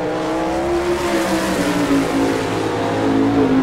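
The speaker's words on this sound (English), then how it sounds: "Your next qualifier on the racetrack." Sprint-style race car on a qualifying lap at Rossburg, Ohio, during an All Star Circuit of Champions event, a loud continuous engine roar with a slowly shifting pitch, sustained throughout at close range.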